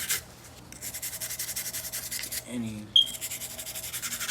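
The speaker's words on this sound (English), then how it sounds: "I usually like to come back with this bristle brush" Stiff bristle brush scrubbing the slide and receiver of a Glock 19 Gen 5 pistol during cleaning, a rapid rhythmic scratching of repeated short strokes, close and fairly loud, briefly broken by a short voice and a clack.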